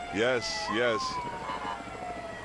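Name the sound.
fire rescue vehicle sirens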